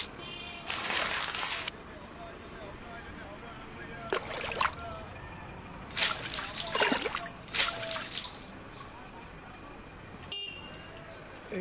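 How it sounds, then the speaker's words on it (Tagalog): Water poured out onto a floor in place of sweeping, heard as several separate splashing gushes with gaps between them, while people talk nearby. "kaya pala hindi ka nagwawalis eh. Binubuhusan mo lang ng tubig eh"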